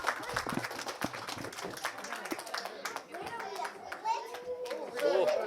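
An audience at a winter camp presentation claps in brisk, scattered bursts, close by, before the clapping gives way to voices and children's chatter.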